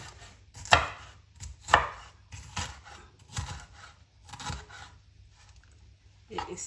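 A knife chopping capsicum into small pieces on a board, a run of distinct close cuts in an uneven rhythm, a few sharper strokes standing out, with faint voices in the background.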